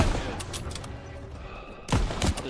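Gunfire in the World War II shooter Call of Duty: WW2 during a trench assault, rapid continuous shots with a couple of sharp louder cracks near the end, close and dense.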